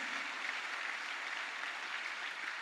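A church congregation applauds, and dense, steady clapping fills the whole stretch at an even level with a faint murmur of voices underneath.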